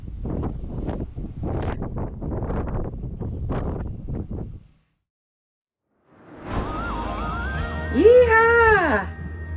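Strong wind buffets the microphone in a steady low roar, cuts out briefly, then returns with a tonal whine rising over it.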